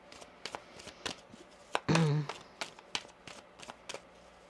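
Tarot cards are shuffled in quick repeated riffles and taps, with a brief voice partway through.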